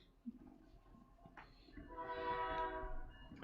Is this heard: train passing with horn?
yes